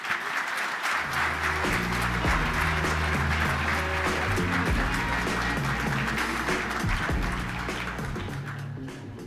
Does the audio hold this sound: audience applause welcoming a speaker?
yes